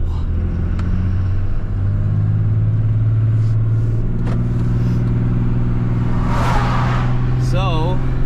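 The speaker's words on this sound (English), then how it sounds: "getting ready to pull out of here. Tow haul on, exhaust brake on, brakes set on the trailer. And we're ready to roll." Pickup truck with tow/haul mode and exhaust brake engaged, pulling a braked trailer away, a loud, steady low engine rumble close by, the pitch shifting as it gets under way.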